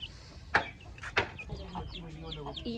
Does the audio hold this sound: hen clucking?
yes